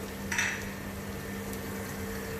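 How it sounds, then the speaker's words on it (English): Onions with whole garlic cloves frying in a pan, giving a steady, soft sizzle throughout with a brief brighter hiss near the start, close and fairly quiet with no talking. "you're going to let this fry until they're nice and golden brown"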